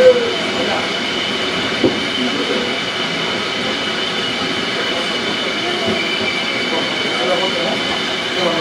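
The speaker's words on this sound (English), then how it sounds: "This is a Woodlawn bound 4 train." A New York City subway 4 train, Woodlawn bound, at the 161st Street–Yankee Stadium station gives off a loud, steady rumble of running cars and wheels on track, close and continuous, with a brief clunk near the start.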